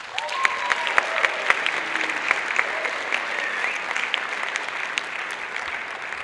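An audience at a chapel gathering applauds to welcome Judge Rudy Pyle, a steady wash of clapping with scattered sharper claps, sustained for several seconds and fading slightly toward the end.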